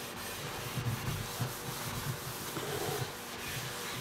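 Scotch-Brite pad with Easy Off and Comet scrubbing a greasy pan: a continuous, close, gritty rubbing with repeated back-and-forth strokes, fairly quiet and steady.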